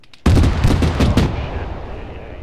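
A sharp, loud burst of rapid gunfire in the Arma 3 military shooter, several shots fused into a quick volley that cuts off and leaves a long echoing tail fading out.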